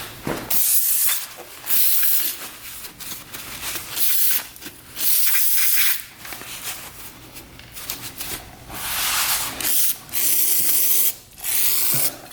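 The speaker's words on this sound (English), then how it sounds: "We're gonna spray that down with brake cleaner." Brake cleaner sprays onto a dirt bike in repeated loud, close hissing bursts of varying length, separated by short gaps and faint mechanical background.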